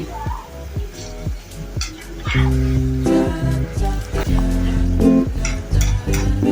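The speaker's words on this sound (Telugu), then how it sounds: "రుచికి సరిపడా ఉప్పును కూడా వేసుకొని బాగా కలుపుకోవాలండి అంత కలిసేలా ఒకసారి బాగా కలుపుకోవాలి" Chicken liver is stirred with salt in a pan, with scraping and clinking of the spoon against the metal and a light sizzle, all under steady background music.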